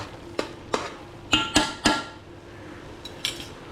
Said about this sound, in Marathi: मित्रांनो आता आपण झाकण काढणार आहोत